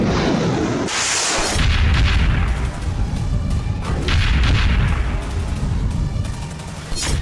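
Repeated heavy booms and blasts from a missile-struck Greek oil tanker pile up one after another, loud and rumbling, with crackling bursts between them and no clear pause.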